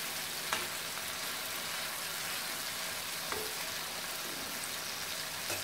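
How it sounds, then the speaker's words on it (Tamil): Bitter gourd frying in oil makes a steady, soft, even sizzle with occasional faint pops, heard alone with no voices. "பாவக்காயை போட்டுட்டேன், நல்லா பொறிஞ்சு வரட்டும்."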